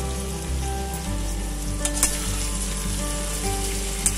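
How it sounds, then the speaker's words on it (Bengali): Cauliflower stalks with turmeric sizzle in a covered pan over a low flame. The frying hiss is steady and close, with a few sharp stirring clinks and a low background hum. "সবজিগুলো একটু ভাজা হয়ে এসেছে, আরো ভাজা করতে হবে"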